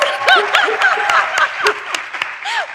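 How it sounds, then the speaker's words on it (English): Applause from an audience at a talk, with sharp claps under a lively mix of cheering and laughing voices, fairly close and continuous. "Big round of applause"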